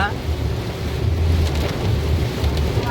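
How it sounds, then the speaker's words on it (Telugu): Heavy rain pours on a highway between Hyderabad and Karimnagar, a loud dense roar with low rumbling wind and road noise that holds steady throughout. "భారీ వర్షం ఫుల్ వర్షం పడుతుంది చూడు"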